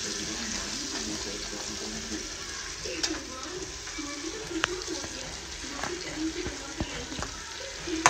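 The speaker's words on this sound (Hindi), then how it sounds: "आलू, आलू वो डाल रहे हैं।" Potato pieces dropped into hot oil in a pan for an aloo dish, sending up a steady dense sizzle and hiss with small crackles and clinks throughout, close and continuous.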